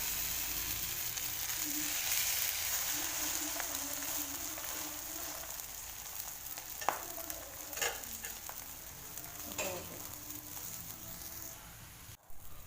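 An omelette frying in a pan, a low steady sizzle with a few faint scrapes of a spatula near the end.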